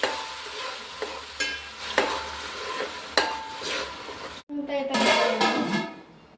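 Masala stirred into fish curry in a pan makes repeated spoon knocks and scraping over a steady sizzle, with a brief pause before louder, busier stirring resumes; close and clear.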